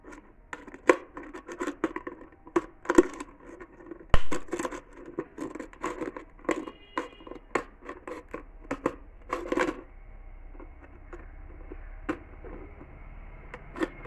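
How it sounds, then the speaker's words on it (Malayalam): Scissors snip material for a bottle craft, making a string of sharp, irregular cuts close by, with brief pauses between them and no voice. "ഇതായി കത്തിരി വെച്ചിട്ട് ഇതേമാതിരി ഇങ്ങനെ മുറിക്കുകയാണ് ചെയ്യേണ്ടത്."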